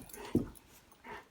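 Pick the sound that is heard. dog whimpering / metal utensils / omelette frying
dog whimpering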